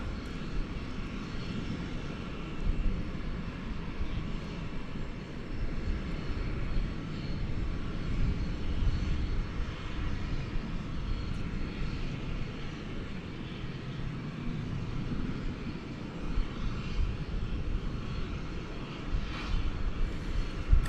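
An American Airlines jet taking off from runway 18 left at Dallas Fort Worth airport at night, a broad steady engine roar holding at moderate loudness throughout, heard from a distance with no voices.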